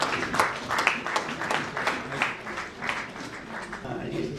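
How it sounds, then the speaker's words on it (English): An awards-ceremony audience applauds at an indoor honoring event, giving steady, moderately loud clapping throughout with a voice talking over it. "Let's extend our heartfelt applause, please."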